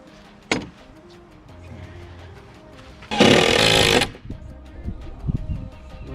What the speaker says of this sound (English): I'm gonna drill a hole and mount that.